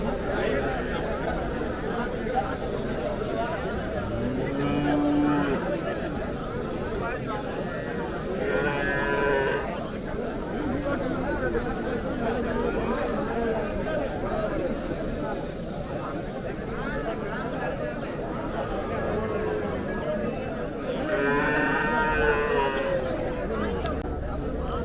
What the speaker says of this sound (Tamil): நல்ல பெரிய மாடு.